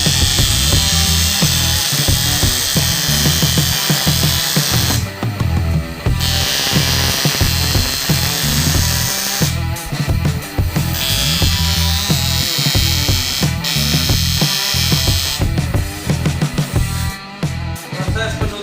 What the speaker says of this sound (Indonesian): langsung saja kita las ya guys untuk bagian tengahnya